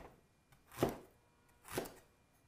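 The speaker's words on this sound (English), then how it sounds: "So now I'm slicing my ginger. I'm slicing it quite thinly so that I can get all the flavor out of it." A knife slices thinly through fresh ginger with two soft, spaced cuts, each a brief muffled thud on a board. Quiet and close, with no talking.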